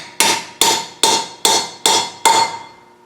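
Six evenly spaced, sharp hammer taps drive a Ford 6.0 liter injector cup down into its injector hole with an alignment tool. The blows are close and loud, each decaying quickly, without speech.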